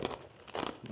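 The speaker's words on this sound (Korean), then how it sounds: "얼음 씹어먹는 소리인데" Ice being chewed close up, crisp crunching bursts in quick succession, fairly faint with no talking.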